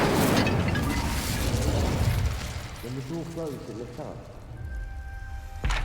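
A fire spell bursts in the Hogwarts Legacy video game, a loud roaring whoosh and boom at the start that fades into quieter ambience, with a voice talking briefly midway and a sharp hit near the end.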